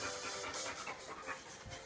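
Dogs pant by an open door, a quick, breathy, rhythmic huffing that stays close and fairly faint with no talking during the moment.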